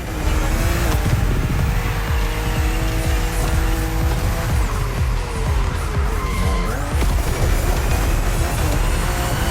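BMW race cars racing in The Crew Motorfest video game, with loud continuous engine roar, rising and falling revs and tire squeal through sharp bends on a narrow road, with no speech.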